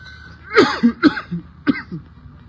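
Three or four harsh, wet coughs in quick bursts, close to the microphone, followed by a shorter cough after a pause.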